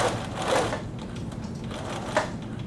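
A sewing machine stitching a fabric pocket for an atikłuq, a soft rapid mechanical clatter, fairly faint, with slight variations in pace.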